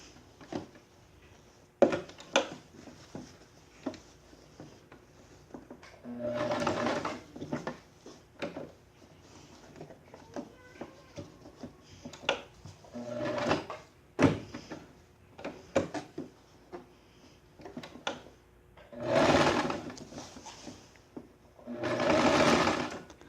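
A sewing machine stitches a jacket shoulder seam in several short bursts, loud and close, with quiet pauses of handling the fabric between runs.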